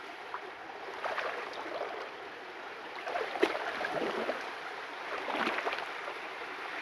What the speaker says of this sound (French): Regardez un peu les vagues.